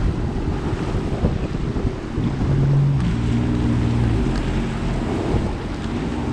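Sea-Doo RXT-X 300 jet ski racing across open water, a steady roar of wind buffeting the microphone and rushing spray, with a faint engine drone rising in pitch partway through, loud and continuous with no talk.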